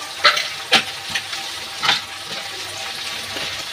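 Spiced shrimp masala with jackfruit, cumin, coriander, red chilli and pepper sizzling in a pan, a steady close fry broken by several sharp scraping stirs of a spatula, with no talk.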